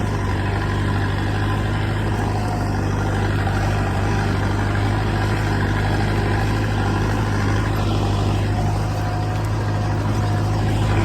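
A 655 tractor plowing a waterlogged field, sinking into the mud, gives a steady, loud low engine drone that holds unchanged throughout, with no voices.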